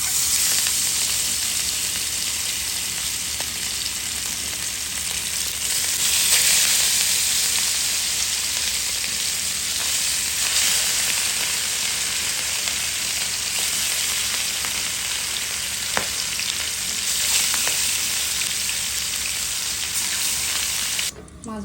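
Rohu fish pieces fry in hot oil, producing a loud, continuous sizzle that holds steady throughout, with a few faint clinks and a brief quieter dip near the end.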